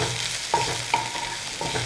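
Sliced green chilies stir-frying on high flame, loud close sizzling broken by a few sharp clinks and scrapes of stirring.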